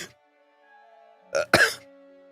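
Two quick coughs close together, sharp and close up, after a brief quiet stretch with faint background hum.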